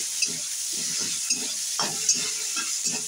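Sliced onions frying in hot oil in a pan give a steady bright sizzle, with soft rhythmic stirring scrapes repeating under it; no voices.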